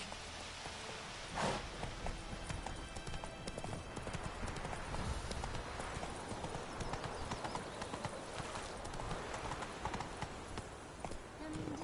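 Roach, a horse in The Witcher 3, gallops with a steady, close clip-clop of hooves running throughout, over a backdrop of rain, while a rider's voice calls out briefly near the start.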